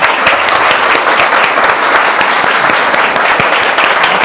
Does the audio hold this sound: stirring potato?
no